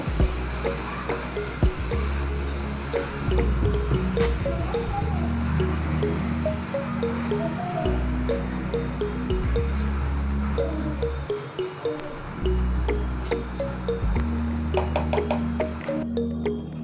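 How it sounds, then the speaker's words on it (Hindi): Sugar and khoya are stirred together in a pan for Hyderabadi Gulati, with soft repeated scraping and squishing strokes and faint drips over a steady low hum, continuing without pause. "मिला लेंगे इसको, चीनी को और खोए को।"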